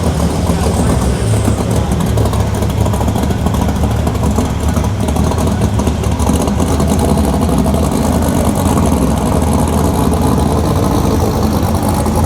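A Ford Mustang GT350 engine runs close by, giving a loud steady rumbling idle with slight revving that continues unbroken for about twelve seconds.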